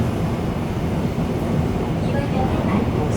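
Inside a moving Seoul subway train, a dense, steady rumble of wheels and car noise fills the space, loud and continuous, with faint squeals and a murmur of voices underneath.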